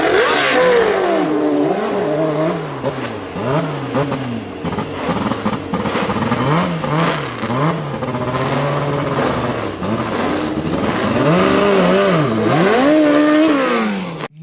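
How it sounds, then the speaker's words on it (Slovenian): A Formula 1 four-cylinder inline engine revs hard and repeatedly, its pitch sweeping up and down in loud, close, raspy bursts with no break for the whole stretch. "zvok tistega motorja, kjer je bil 4-cilindrski linijski motor"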